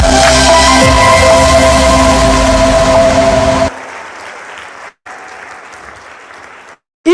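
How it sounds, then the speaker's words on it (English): A large conference audience in Nigeria applauds loudly for several seconds, then the clapping drops off abruptly to a quieter murmur of room noise. "I expect a louder round of applause."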